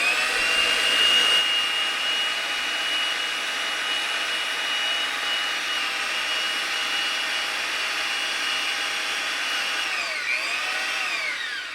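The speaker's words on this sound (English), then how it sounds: "I always run the threads until I see about the last thread coming outside of the die." A pipe threading machine cutting threads onto gas pipe, a steady loud motor whine with a high grinding tone that holds throughout, dipping briefly near the end.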